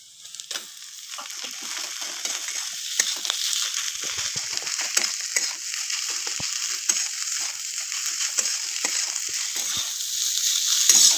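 Teasel gourd fries with browned onions in a pan, giving a loud, steady hiss of sizzling oil with scattered crackles and pops throughout, close up and with no talking.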